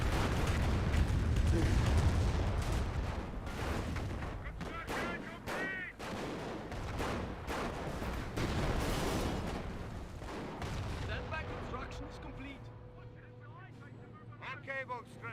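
Artillery barrage in the Company of Heroes strategy game, heavy booming shell impacts and gunfire rolling in dense bursts, with a caster talking continuously over the battle.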